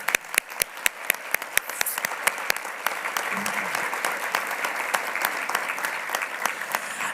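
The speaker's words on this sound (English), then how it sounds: "Please join me in giving them another round of applause" Audience applause at a university leadership awards ceremony, opening with distinct individual claps that swell into a dense, sustained round of clapping from a large crowd.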